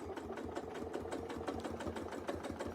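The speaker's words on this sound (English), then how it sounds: "we'll just sew until we run out." Sewing machine stitching steadily while free-motion quilting a freehand circle, a fast continuous mechanical hum with rapid needle pulses, close and alone.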